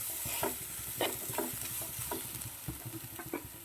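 Chopped capsicum and onion sauté in a pan for a dragon chicken dish, with a steady soft sizzle and repeated scraping stirs of a spatula, close by and with no talk.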